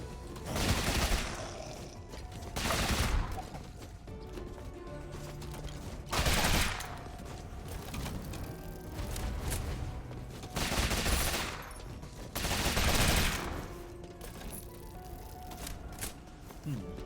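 Gunfire from the gun in the action roguelite Rogue Legacy 2, coming as repeated loud bursts roughly every two seconds over a busy game soundscape with steady background music.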